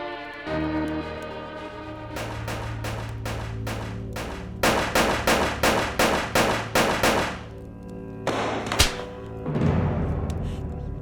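A rapid string of about ten sharp gunshots fired close by in a heated domestic confrontation, followed by one more isolated bang and a tense pause.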